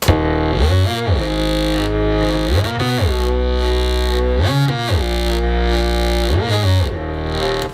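Deep, warm filtered Moog synthesizer sub bass swelling in repeated sweeping phrases, its filtered tone rising and falling every couple of seconds, loud and steady with no voices.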